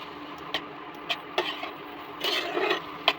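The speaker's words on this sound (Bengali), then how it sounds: "এবার এটাকে আমি ভালো করে মিশিয়ে নেব" A spatula mixes bottle gourd curry with salt and turmeric in a pan, giving a few sharp taps and scrapes at irregular intervals and a brief longer scraping stretch, close and fairly quiet with no voices.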